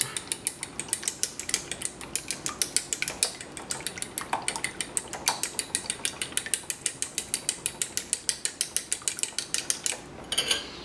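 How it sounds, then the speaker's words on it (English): A whisk beats an egg in a bowl for buttermilk biscuit dough, giving a steady, rapid run of light metallic clicks and taps against the bowl that lasts the whole stretch, close and alone. "I'm just going to kind of whisk that together so it mixes up."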